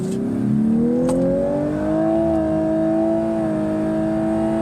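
A 2023 Lexus LC 500h launches hard in sport plus mode, its loud engine note climbing steadily in pitch as the car accelerates, close and continuous with no talk.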